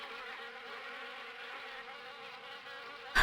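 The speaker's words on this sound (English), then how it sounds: "Oh my god, there's wasps everywhere." Wasps buzz continuously in the video game Harvester, a dense insect drone swarming around a nest under an overhang, steady and close, alone until a sharp louder burst at the very end.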